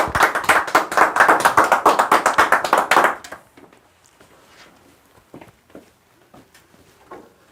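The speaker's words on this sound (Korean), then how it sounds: "박수로 환영해 주십시오." An audience at a public lecture on ancient Korean history claps loudly and quickly in a dense, even burst for about three seconds, then the room falls quiet with only a few faint scattered taps.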